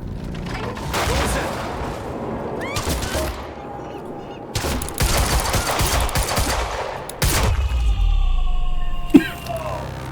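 Rapid bursts of automatic gunfire from a third-person shooter video game, Quantum Break, loud and close, in several volleys separated by short gaps, with game sound effects between them.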